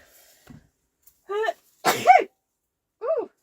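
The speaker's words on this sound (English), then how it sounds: "I'm gonna sneeze, bear with." A person sneezes: a small intake, then two sharp sneezes in quick succession, followed by a third after a brief pause, each loud, close and abrupt against near silence.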